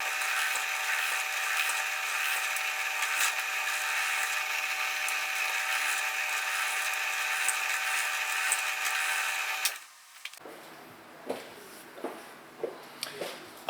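A drill press whirs steadily for about ten seconds while drilling Disney Nautilus model pieces, then stops, followed by a few faint clicks and handling taps.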